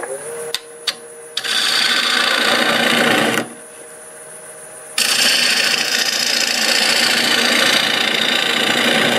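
Half-inch bowl gouge cutting black locust wood spinning on a lathe: a loud, steady broadband shearing hiss that drops out for about a second and a half midway, then resumes just as strong.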